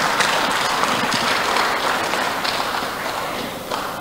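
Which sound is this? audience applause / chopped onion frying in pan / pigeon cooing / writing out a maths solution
audience applause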